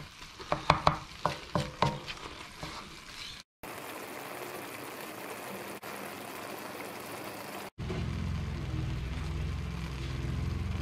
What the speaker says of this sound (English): we're just going to keep frying that away